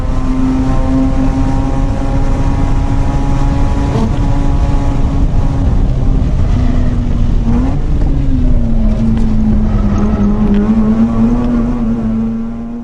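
A car runs a hot lap at Sonoma Raceway. Its loud engine holds a steady drone close by, then shifts pitch as it lifts and accelerates through the corners, with wind rush throughout and no speech.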